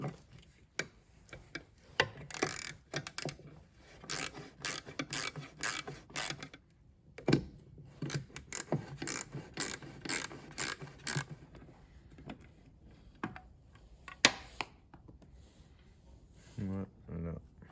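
A ratchet backs out two 10 mm screws on a Mercedes W126, giving quiet, rapid clicking in repeated bursts separated by pauses, with some faint background talk.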